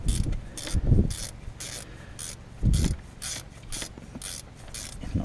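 A ratchet wrench tightening a bolt on a Land Rover Defender 90 TD5 power steering pump, giving a series of rapid clicking strokes with brief pauses, close up and moderately quiet.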